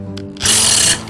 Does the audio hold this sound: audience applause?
no